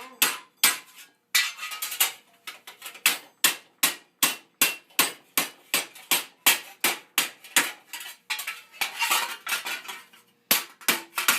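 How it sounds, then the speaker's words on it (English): Repeated hammer blows with the flatter face shaping the sides of a late 14th century steel greave, sharp metallic strikes in quick rhythmic runs with brief pauses between bursts, close and loud. "Using the flatter face of my hammer."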